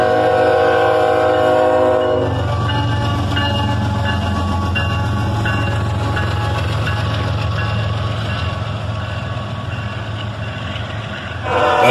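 A single ES44AH diesel locomotive drags a loaded auto rack freight train, its engine droning loud and close throughout with the rumble of rolling cars, and a horn-like tone opening the first couple of seconds.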